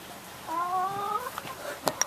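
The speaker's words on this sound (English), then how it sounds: "check out the chickens. They're just kind of doing their thing." Backyard chickens in Los Angeles give a drawn-out clucking call, followed by a few short, faint clucks and scratches at close range.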